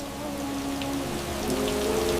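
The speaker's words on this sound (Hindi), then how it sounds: "बहुत तेज बारिश हो रही है" Heavy rain pours steadily in a dense, continuous hiss of drops on surfaces, loud and close throughout with no voices.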